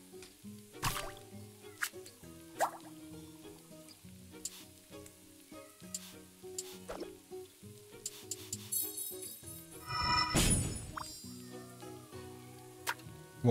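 Water drips and sizzles in the cooking video game Battle Chef Brigade Deluxe on Nintendo Switch: steady irregular droplets and frying hiss over game music, with a louder splashing burst partway through.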